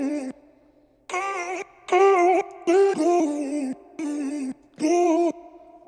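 Chopped vocal for a deep house or pop track, run through a Sound Toys plate reverb, sounding as a string of pitched sung syllables in rhythmic bursts with short silences between, loud and clear without any speech.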